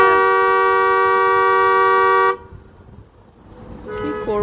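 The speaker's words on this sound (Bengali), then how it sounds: "হর্ন দিচ্ছে জোরে, যদি নুন ফুড ডেলিভারি বের হয়ে আসে।" Car horn blares in one long, loud, steady toot in a hot desert community parking area, then cuts off abruptly, leaving quiet outdoor ambience with faint distant sounds.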